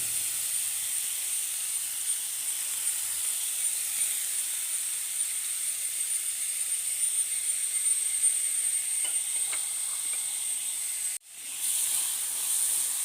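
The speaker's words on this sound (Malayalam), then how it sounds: "അതിലേക്ക് ഒരു വലിയ സവാള പൊടിയായി അരിഞ്ഞത് ചേർത്ത് കൊടുക്കാം" Finely chopped onion hits hot coconut oil in a pan, giving a steady, bright sizzle and hiss that runs unbroken and fairly loud for the whole stretch, briefly cut off near the end before resuming.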